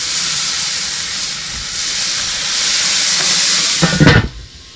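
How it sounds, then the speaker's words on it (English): Salmon fillet and asparagus steam on a hot griddle, a loud, steady broadband hiss that holds for about four seconds before a brief scraping clatter and a sharp drop in level. "We're going to steam it right in there."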